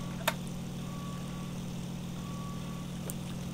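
A propeller plane's engine in the IL-2 Sturmovik flight game drones steadily while climbing, a constant low hum with a couple of faint clicks over it.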